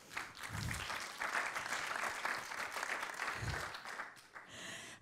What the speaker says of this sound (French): je crois qu'on peut les féliciter et puis les applaudir vraiment